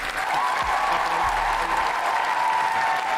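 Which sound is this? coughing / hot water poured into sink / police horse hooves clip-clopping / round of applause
round of applause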